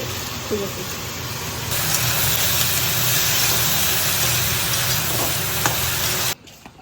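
Small eggplants frying in a pan with mustard, stirred steadily, giving a loud, continuous sizzle that runs nearly unbroken before cutting off abruptly near the end.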